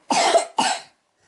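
A child coughs twice in quick succession, close and fairly loud, followed by silence.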